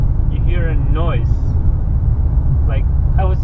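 Synthetic engine noise plays through the speakers of a 2018 Citroen DS7 Crossback in sport mode: a steady low drone that runs continuously beneath someone talking.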